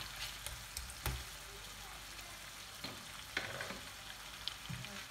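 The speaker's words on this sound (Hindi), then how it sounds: "अब इसको हम फ्राई करेंगे।" Beef masala made with tomato and yogurt fries quietly in a pan, a faint, even sizzle with a few soft knocks and stirring clicks scattered through it.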